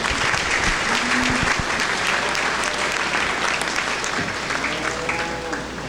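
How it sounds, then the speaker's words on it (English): Audience applause for exhibitors at a state fair breeding heifer show, a sustained close crowd of clapping with a few stray background sounds, tapering slightly near the end. "Let's give all these exhibitors a nice round of applause."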